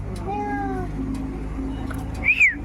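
A cat meows while being held, one drawn-out cry near the start and a sharper rising call near the end, over low background noise.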